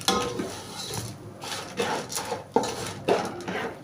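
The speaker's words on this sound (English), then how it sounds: "After stirring and mixing the sugar, salt, the oil and the butter together, I now added my corn into the pot. Stir it." A spoon scrapes and clinks around a cooking pot as corn kernels are stirred into sugar, salt, oil and butter for sweet homemade popcorn, making irregular close knocks and rubs with short pauses between strokes.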